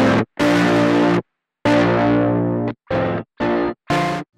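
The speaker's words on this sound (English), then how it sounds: "this is a stereo distortion effect" Heavily distorted, fuzzy guitar chords from a stereo fuzz distortion effect on a Hologram Chroma Console pedal ring out in several bursts: two long sustained strums, then three short stabs, loud and saturated with no talking.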